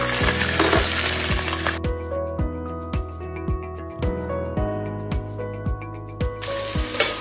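Onions dropped into hot oil and frying in a pan, giving a dense bright sizzle over a steady low hum, with repeated clicking taps and a brief louder burst near the start.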